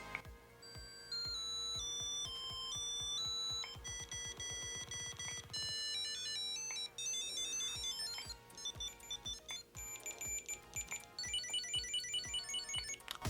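A series of Chipolo One item tracker ringtone melodies, each a short run of bright synthetic beeps and chimes played in turn, loud and clear, with no talking.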